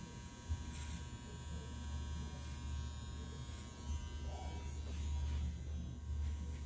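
Electric razor buzzing steadily as it shaves a head, with the blade's corner worked into tight spots; close, continuous hum with light scraping variations and no talk.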